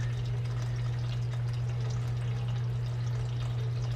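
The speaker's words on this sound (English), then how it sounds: "So yeah, draining the fuel tank." Fuel drains from the tank of a 1966 Chrysler 300 into a container, a steady liquid pour under a constant low hum, even and continuous throughout.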